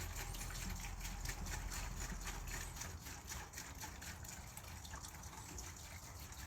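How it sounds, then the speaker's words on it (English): Goof Off rust remover is poured from a bottle onto a rubber-covered concrete pathway, a faint steady gushing, gurgling stream with rhythmic pulses that runs continuously without talk. "And it says just pour it directly in the full thing"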